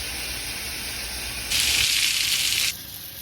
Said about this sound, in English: Now I'm going ahead and searing that up